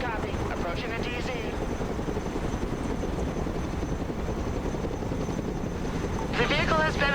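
Chinook heavy transport helicopter in the Broken Arrow military strategy game, a steady loud rotor and engine roar throughout with wind-like rush, swelling slightly near the end, with a radio-style voice briefly overlapping.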